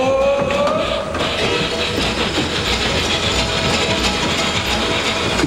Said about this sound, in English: we've got a couple of the operators running some trains